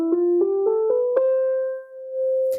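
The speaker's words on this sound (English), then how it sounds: "The major scale, I trust you already know what it sounds like. It sounds like this." A major scale rises note by note in clear, evenly spaced steps: five short notes climb quickly, then the last one is held and sustained alone before a soft click at the end.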